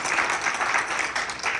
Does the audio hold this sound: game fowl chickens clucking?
no